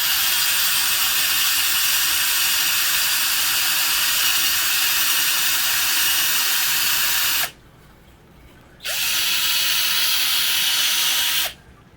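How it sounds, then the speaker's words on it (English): A power drill drilling into wood whines steadily at high speed, cuts out briefly, then revs up again before stopping. "if you're going to drill into some wood, you want to hold your wood down like this"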